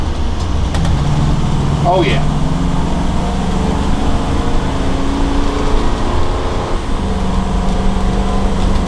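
A 2016 Fleetwood Flair 26D small Class A motor home with a 362 HP engine climbs a hill, its steady drone and road rumble carrying throughout, with brief speech from the driver.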